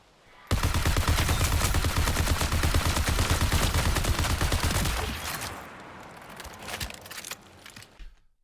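Rapid, loud gunfire in the sci-fi shooter game Marathon, dense bursts of shots running for about five seconds, then trailing off into quieter scattered reports and echoes.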